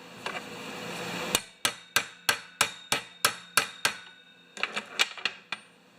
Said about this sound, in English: we're going to tap that down